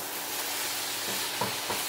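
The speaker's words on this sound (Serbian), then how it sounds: "Zatim ćete dodati meso i nastavite dalje sa prženjem" Steady broadband sizzle of chicken frying in a pan, with a couple of soft scraping stirs near the end and no talking.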